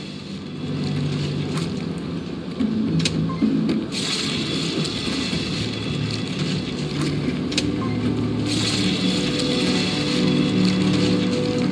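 A meat grinder in the video game Borderlands 2 runs with a continuous low churning, crunching drone, steady and fairly loud throughout, with a few faint clanks scattered on top.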